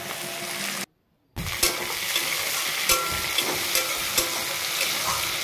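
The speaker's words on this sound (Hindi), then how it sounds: "अब इसमें डाल दूंगी मैं टमाटर" Tomatoes go into a frying potato and spinach curry, sizzling steadily on the pan with a few stirring scrapes; a short silent gap early on breaks the hiss, which then continues close and fairly loud with no one talking.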